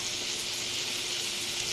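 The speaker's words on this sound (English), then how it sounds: "they're already sizzling" Fajita strips sizzle steadily in a seasoned cast iron skillet, a continuous bright hiss of frying that holds even and fairly loud throughout with no voices over it.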